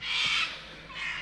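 A couple of harsh, raspy bird squawks like crow calls in a backwater fishing spot, moderately close and standing alone without talk.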